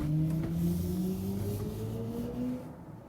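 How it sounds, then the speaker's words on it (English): A synthetic acceleration tone from an electric SUV, a steady humming whine that slowly rises in pitch as the throttle is pressed, loud and close with road rumble underneath. "there's also an acoustic feedback when pushing the throttle"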